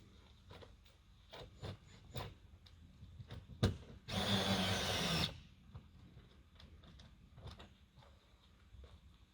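A power drill cranks a pickup camper's jack in one loud whirring burst of about a second, with scattered knocks and clicks before and after in a quiet setting.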